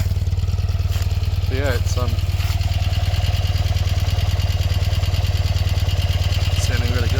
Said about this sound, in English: It's actually idling properly now.